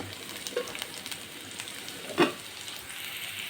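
Onions fry quietly in a pan with a faint, continuous sizzle, broken by a few soft clicks of stirring and one sharper scrape near the middle.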